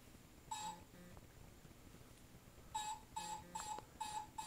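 Several short tonal beeps come from a cell phone being dialed: one single beep, then a quick series of four or five, all quiet and close in a calm room.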